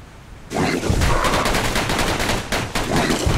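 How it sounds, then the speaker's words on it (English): Rapid gunshots in the video game Bastion, a loud continuous barrage of quick repeated blasts starting abruptly and holding for a few seconds, heard close and alone. "Is that 12 shots?"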